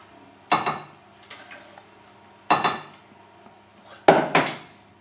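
Three separate scraping, clattering thuds sound close by as a sprouted seed bread mixture is scooped and turned out into a tray, with softer shuffles between them.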